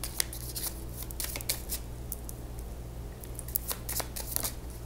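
Tarot cards being shuffled and drawn, with repeated quick riffles and soft flicks of cards slapping together in bursts, close and distinct with no talking.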